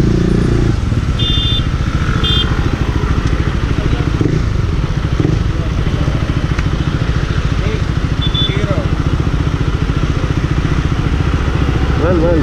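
KTM Duke 390 single-cylinder motorcycle from 2017 with a modified exhaust, idling close up with a loud, steady throbbing beat, a few light clicks and brief throttle blips, and a voice speaking briefly.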